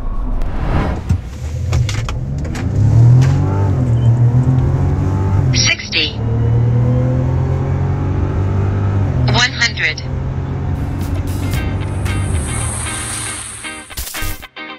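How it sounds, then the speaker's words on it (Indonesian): A Mazda CX-60 accelerates hard from 0 to 100 km/h, the engine note rising loud through several gear changes with brief dips between them, while people talk inside the cabin. "Kita juga sempat ngetes 0 sampai 100 km per jam di CX-60 ini."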